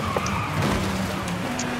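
A car in the Forza Horizon 5 racing game skids and spins out during an online auction race, with a steady engine drone and tire noise that hold at close range for under two seconds.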